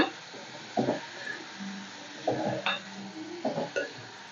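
Eggplant and broad bean curry is stirred in a pan with a few separate scraping clinks of a spoon against the metal, spaced out and fairly close, over a faint low sizzle.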